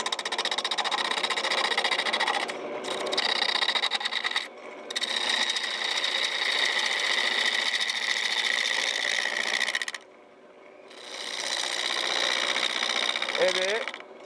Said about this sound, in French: Moi j'ai un tour qui n'est pas très puissant